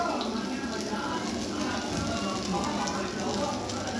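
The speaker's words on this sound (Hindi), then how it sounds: "फ्राई कर रहे हैं टिक्कियाँ" Potato tikkis fry in a pan with a steady, even crackle and hiss like light rain that holds unchanged throughout.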